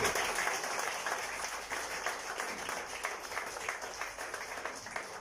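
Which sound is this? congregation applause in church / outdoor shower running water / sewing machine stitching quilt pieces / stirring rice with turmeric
congregation applause in church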